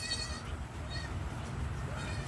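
Native goats on a farm bleat in a few short calls over steady background noise, moderately close, with no talk over them.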